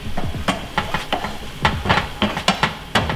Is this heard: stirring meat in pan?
yes